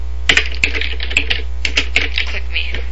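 Rapid typing on a computer keyboard while editing a button's label text in a Visual C++ properties dialog: a quick, uneven run of close, crisp keystrokes over a steady low hum.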